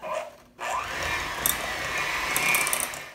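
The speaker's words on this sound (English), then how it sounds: "I'm going to blend this up" An electric mixer blends applesauce, shortening and sugar in a kitchen. After a brief pause, a steady, close whirring motor drone starts and runs on with a slightly rattling, mechanical edge.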